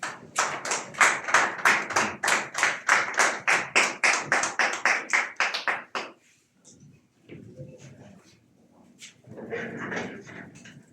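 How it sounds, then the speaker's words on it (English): A small group of media guests claps for about six seconds to welcome Miguel Cardoso as the new Mamelodi Sundowns head coach, with sharp, close hand claps that fade to quiet. Murmurs and a brief voice follow. "please give him a round of applause"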